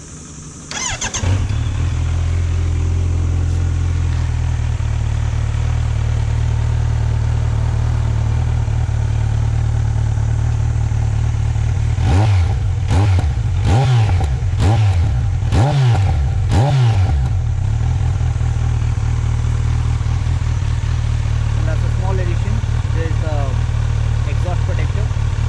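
Kawasaki Z900 motorcycle, a 2026 E20 model rated 125 hp, starts up and idles steadily nearby, then gets a quick series of about six sharp throttle blips before settling back to idle.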